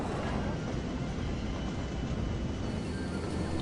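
Cargo and passenger trains in the city-building game Cities: Skylines give a steady, dense rail rumble with a faint clatter, continuous and fairly loud throughout, with no voices.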